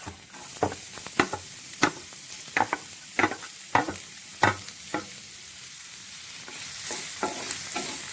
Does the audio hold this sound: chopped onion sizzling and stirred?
yes